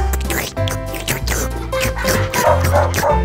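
A person imitates a dog with a run of yipping barks and whimpers, close and fairly loud over steady background tones, in a lively, repeated rhythm.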